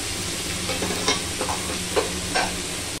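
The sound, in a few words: potatoes frying with chili in a pan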